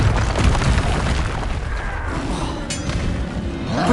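A Confringo explosive spell blasts in Hogwarts Legacy, giving a loud, sustained boom with a rumbling low end that rolls on for several seconds, with a short sharp crackle partway through.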